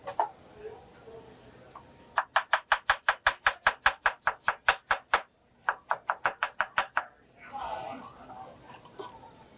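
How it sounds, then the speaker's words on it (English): A knife chops onions on a board in two quick, even bursts of sharp, close taps, a brief pause between them and a softer rustle afterward. "While I cut these onions up, we're just going to put this all in the bowl"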